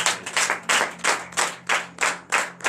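Church congregation at a morning prayer service in Comè, Benin, claps in acclamation: a steady run of rhythmic, loud group claps about every quarter second, close and without talk, over a faint low hum.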